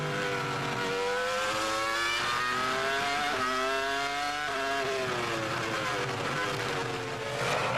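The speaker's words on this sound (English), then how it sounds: "Great to hear that Ferrari engine working hard" A Ferrari Formula One car's engine screams at high revs during racing at the 2002 Hungarian Grand Prix, a loud continuous whine rising and falling in pitch through gear changes, heard up close throughout.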